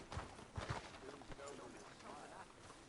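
Horse hooves clop in a few distinct, uneven beats in Red Dead Redemption 2, fairly close and soft, then fade under quieter background sound.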